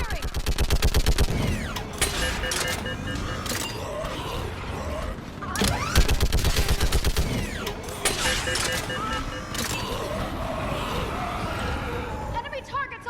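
Gunfire in the video game Mass Effect 3, the Thessia mission, with rapid bursts of automatic shots and mechanical clatter mixed with loud game effects, while voices shout in the background.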